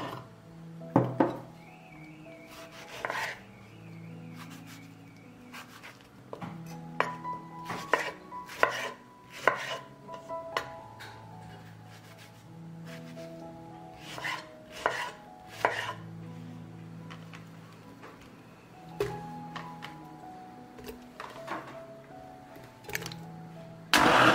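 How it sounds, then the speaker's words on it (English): A knife chops tomatoes on a cutting board in a kitchen, with repeated sharp thunks arriving in uneven clusters and short pauses, close and clear. "Now I will cut and grind a kilogram of tomatoes."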